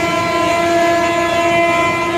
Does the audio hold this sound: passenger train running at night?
yes